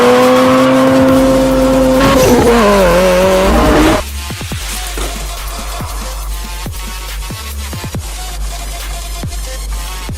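Hot Wheels Fast and Furious toy cars race on a track, opening with a loud engine roar and tire squeal, then a rapid clatter of small wheels and clicks.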